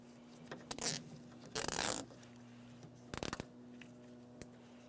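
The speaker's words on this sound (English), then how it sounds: "So we'll just use a wire tie for that." Plastic zip tie ratcheting tight around a car's wiring harness during rear window motor and regulator replacement on a 2002-2009 Chevrolet Trailblazer, heard as a few short, close zipping bursts with quiet pauses between them.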